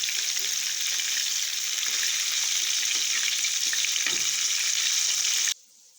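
Chicken pieces fry in a pan, with a loud, steady hiss of hot oil that continues unbroken for several seconds and then cuts off suddenly near the end.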